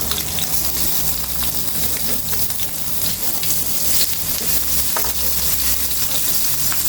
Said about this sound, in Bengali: এটা কিন্তু খুব বেশি ভাজা যাবে না।